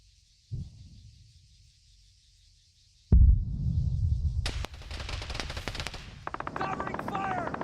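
Covering gunfire in a military shooter video game: a lone thump, then sudden loud bursts of rapid automatic fire and sharp rifle cracks, continuing in rattling volleys.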